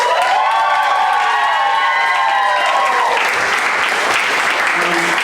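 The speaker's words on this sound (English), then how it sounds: "So can we give them a round of applause?" A theatre audience at a live comedy show applauds and cheers after a call for a round of applause, dense loud clapping filling the room and fading toward the end.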